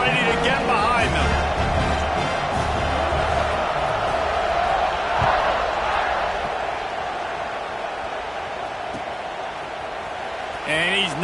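A football stadium crowd at kickoff produces a broad, steady roar that sits beneath continuous commentary from an announcer throughout.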